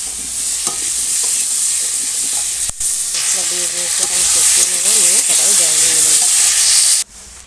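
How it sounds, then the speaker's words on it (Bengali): Eggplant and potato pieces frying in hot oil in a pan, a steady loud sizzle with stirring scrapes throughout, continuous until a sudden drop near the end; no talking. "আর বেগুনটা তেলে করে ভেজে নিচ্ছি তারপর আলু দিয়ে ভাজি তেলে করে দিয়ে আলু দিয়ে লবণ একটু হলুদ নাড়াচাড়া করছি"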